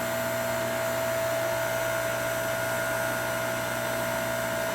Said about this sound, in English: That's the motor pressurizing everything.